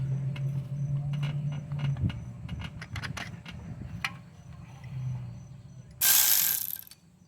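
A ratchet works bolts loose on a Nissan Murano engine during removal, rapid clicking bursts in short runs with pauses, a low hum beneath, and a sharp hiss-like burst near the end.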